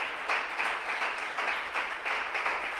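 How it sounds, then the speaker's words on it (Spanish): Church congregation at a Sunday celebration service clapping together, a steady sustained round of applause with rhythmic surges, filling the room at moderate volume with no speech over it. "Denle un aplauso a Jesús"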